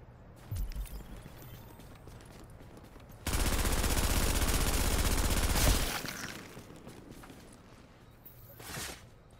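Burst of gunfire in The Division, a dense loud volley lasting about two and a half seconds in the middle, with quieter in-game clatter and hoof-like thuds before and after.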